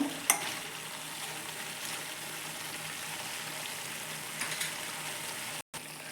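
Chicken pieces for a spicy chicken curry fry in oil over a medium flame, giving a steady, close crackling sizzle that runs throughout with a sharp pop near the start and a brief dropout near the end.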